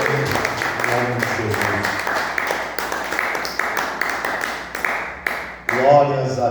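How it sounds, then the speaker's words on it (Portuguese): A church congregation claps along in rhythm during worship, with steady, fairly loud hand claps under singing voices and music that fade toward the end. "Os irmãos podem se assentar e louvar o Senhor com as palmas."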